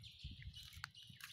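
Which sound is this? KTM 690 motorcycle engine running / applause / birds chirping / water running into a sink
birds chirping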